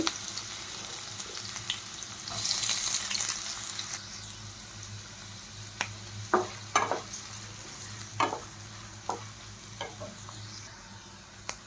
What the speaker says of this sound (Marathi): आता कांदा आपल्याला छान परतून घ्यायचा आहे